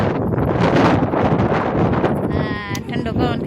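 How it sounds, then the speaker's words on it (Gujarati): Strong wind blowing outdoors buffets the microphone with a loud, continuous, rumbling roar throughout, while voices talk underneath it. "આજે કેટલો પવન છે"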